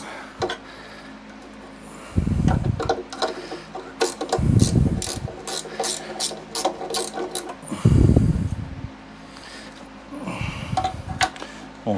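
Small rusty old machine being cranked by hand, its worn mechanism grinding, clicking and ratcheting in uneven bursts, with several heavier clunks where it sticks and catches; close and fairly loud throughout.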